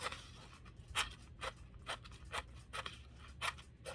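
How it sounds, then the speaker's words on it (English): Scissors snip through two layers of paper in a series of about nine sharp, crisp cuts at an uneven pace, close up with no one talking. "cutting through 2 pieces of paper"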